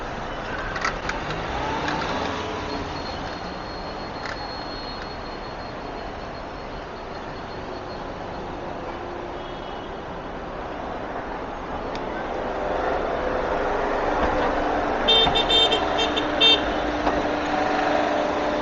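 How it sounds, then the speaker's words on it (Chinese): City road traffic on a night street in Panyu, Guangzhou, a continuous wash of passing cars and trucks that swells later, with several short horn toots near the end, heard from close by. "这边居然还有那么多的车流。"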